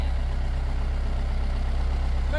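A Jeep engine idles steadily just after starting from a previously dead state, a constant low rumble with an even pulsing throb, close and continuous with no talking over it.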